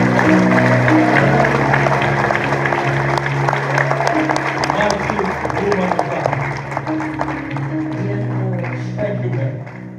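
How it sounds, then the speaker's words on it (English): An audience at a graduation ceremony claps steadily for Sister Jackie, the dense applause running for the whole stretch, with voices and a sustained musical tone underneath. "Give a clap to her."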